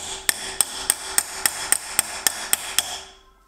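Hammer striking a stainless steel pipe, about eleven sharp metallic hits in a steady, evenly spaced rhythm with ringing overtones, close and clear with no speech.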